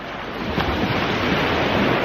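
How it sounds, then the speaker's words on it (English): Sea waves crash steadily through coastal rocks, a loud continuous roar of surf with gusting wind rumbling across the microphone, heard alone without voices. "I want to capture the waves crashing through the rocks"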